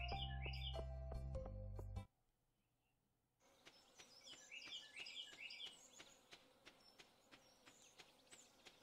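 A loud bird outside a house gives scattered chirps and tweets after a brief quiet gap, heard over faint buzzing ambience, with game music at the start.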